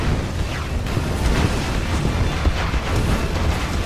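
GLA rocket explosions in the Generals Evolution video game, a dense, loud rumble of overlapping blasts and booms that keeps going without a break, with no talking.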